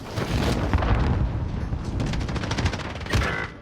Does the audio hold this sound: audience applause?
no